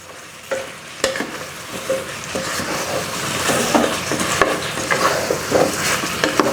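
Pork belly and pumpkin stir-frying in a hot pan, a steady sizzle broken by scraping and clacks of a utensil stirring against the metal, close and fairly loud.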